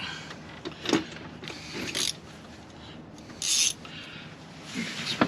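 A 250 amp alternator is tightened into its mount on a truck carrying a camper, giving several short, close rasping and ratcheting bursts separated by pauses, mechanical and fairly loud with no voices.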